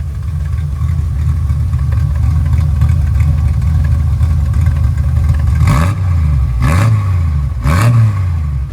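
A 1973 Triumph TR6 engine idles with a steady, throaty rumble close by, then gets three quick revs near the end, each swelling and dropping back to idle. No one speaks.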